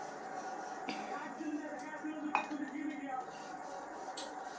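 Coffee cups and cooking pots scrubbed by hand outdoors with no sink, producing soft intermittent clinks and knocks of metal and ceramic at close range, with a voice talking faintly in the background.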